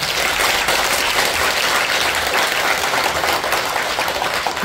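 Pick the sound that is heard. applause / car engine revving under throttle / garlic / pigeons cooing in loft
applause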